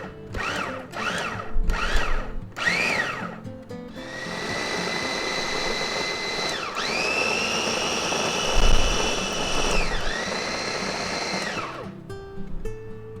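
A food processor chops tuna, starting with several short pulsed bursts, then running in a long loud whir with a couple of brief dips in pitch before stopping.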